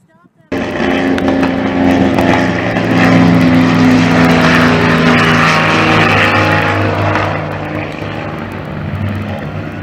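A propeller airplane drones loudly and close, a steady roaring engine hum with rich tonal harmonics that holds for several seconds and then eases slightly as it moves off.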